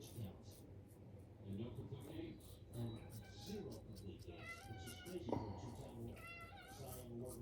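A pet cat meows repeatedly up close, several distinct rising calls spread across the moment, while a person talks softly to her.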